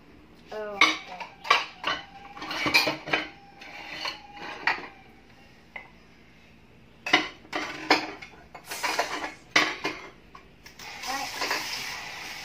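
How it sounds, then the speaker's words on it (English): Dishes being washed by hand at a home sink: pots, plates and cutlery clink and clatter in irregular bursts, with brief water splashes, close and fairly loud, no talking. "these are all the dishes that I have to wash right now"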